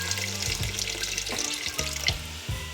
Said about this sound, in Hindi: अब हम इसके अंदर ऐड करेंगे पानी।